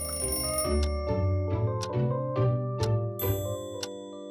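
An alarm clock rings in a bright, repeating metallic chime, several quick rings in a steady rhythm, clear and close.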